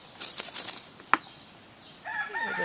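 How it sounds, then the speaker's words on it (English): A chicken on a mountain farm makes a few brief clucks and calls, with a sharp knock partway through and a rising squawking call at the end, fairly close in a quiet outdoor setting. "Chicken in there."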